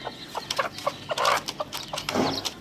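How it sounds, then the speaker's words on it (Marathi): A free-range country hen clucks repeatedly in short, fairly close calls, mixed with faint high peeps from newly hatched chicks just lifted out from under her after a clutch of eggs hatched. "मग आपण कोंबडी उचलली, पिल्ले निघालेले."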